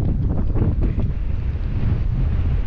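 Sea waves and strong wind at Inchudi beach on the Odisha coast, a steady loud roar of surf and wind buffeting the microphone with no talk.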